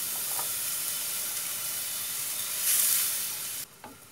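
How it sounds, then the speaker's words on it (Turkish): Boiling water poured into a hot pan of rice pilaf that has been frying over high heat, setting off a loud, steady sizzling hiss that swells briefly before dropping away near the end. "Hemen 2 su bardağı suyumu boşaltıyorum."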